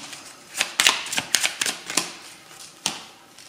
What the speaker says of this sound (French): j'ai retourné 2 cartes